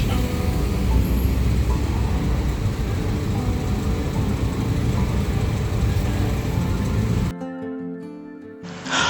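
Rush-hour traffic where the B51 Cawang Central–Cikarang bus pulls in, a dense steady roar of engines and road noise that suddenly cuts to a quieter hum near the end.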